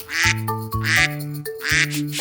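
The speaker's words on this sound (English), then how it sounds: "It's a duck." Three loud, nasal duck quacks in a steady rhythm, each one drawn out, close and clear with no other sounds.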